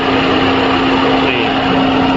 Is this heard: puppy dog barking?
no